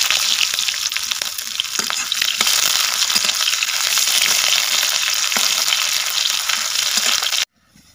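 Bay leaf and onion frying for a village-style chicken curry, a steady loud sizzle with occasional stirring scrapes running continuously, then cutting off abruptly near the end.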